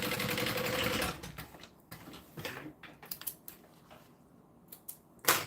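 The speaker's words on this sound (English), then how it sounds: "what I do is I stitch down the sides just to hold all those folds together." A sewing machine stitches down the sides of a fabric bag in a short, quiet run at the start, followed by soft scattered clicks and handling noises.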